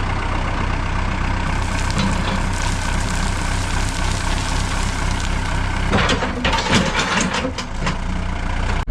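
A small digger's diesel engine chugs steadily nearby, with clanks and knocks of machinery working over the constant rumble; no one speaks.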